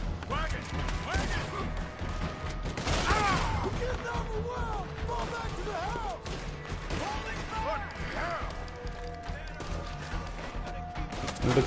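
Shootout in Red Dead Redemption 2, the Western video game, with repeated sharp gunshots and thuds scattered throughout, heavy and continuous, while someone talks across the action.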